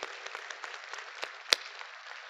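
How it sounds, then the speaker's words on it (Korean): A church congregation applauding, a steady wash of many hands clapping at a moderate distance, with one sharper clap standing out near the middle. "우리 큰 박수로 모든 영광을 우리 하나님 앞에 올려드립니다."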